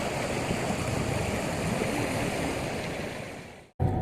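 River water flowing at a ghat during Chhath Puja in the evening, a steady broadband rush and wash, fairly loud and continuous, briefly cutting out near the end.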